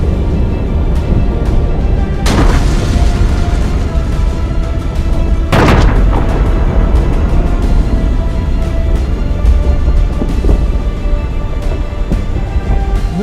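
Artillery firing on enemy positions in the Hadrut area during the Karabakh fighting produces two heavy booming blasts within a dense, loud, continuous roar of combat noise.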